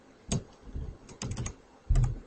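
Computer keyboard keys being pressed in three short bursts of typing, close and clear, with quiet pauses between them and no talking.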